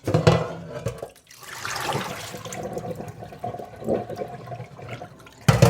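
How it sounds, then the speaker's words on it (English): Liquid from cooked beans pours out of a pot into a sink drain, a loud rushing splash close by that eases into a steady trickle before a final burst of water. "I'm going to drain that. And I get rid of that liquid in there."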